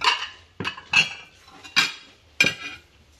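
Ceramic plates handed out around a family lunch table, clinking and clattering in five sharp separate knocks spaced over a few seconds, close by with no voices.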